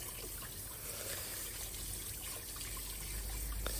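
Kitchen tap running steadily while cleaned squid is rinsed under it, a continuous close hiss of water with faint splashing and no speech.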